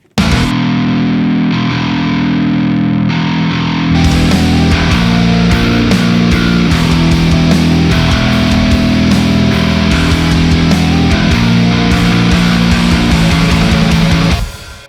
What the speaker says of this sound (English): It's just like Marshall distortion on bass.